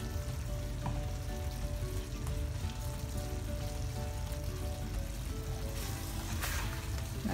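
Sizzling chicken and capsicum curry in a hot pan as a small splash of soy sauce goes in, a steady close frying hiss with faint stirring scrapes and no talk.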